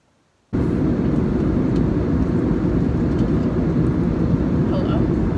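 A steady, loud broadband roar of an airplane cabin in flight cuts in abruptly after a brief silence and holds constant, with indistinct voices faintly beneath it.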